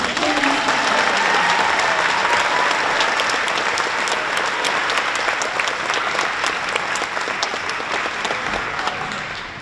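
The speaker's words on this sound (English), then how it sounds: "I think that man deserves another round of applause." A large crowd applauds at a championship celebration for the Columbus champions, loud sustained clapping with scattered cheers that holds steady for nearly ten seconds and eases slightly toward the end.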